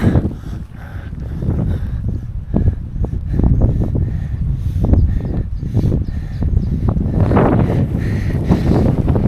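Gusty wind buffets a microphone in heavy rain during a bike race across France, roaring loudly and unevenly with rushing bursts throughout.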